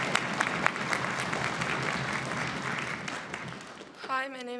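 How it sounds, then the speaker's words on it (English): A middle school orchestra concert audience applauds a student, a sustained wash of clapping that fades out near the end, followed by a voice speaking. "Let's give her a giant round of applause"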